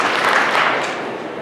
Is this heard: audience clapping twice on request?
yes